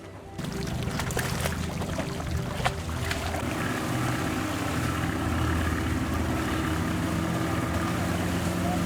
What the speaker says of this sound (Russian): Подключим второй мотор, замерим скорость.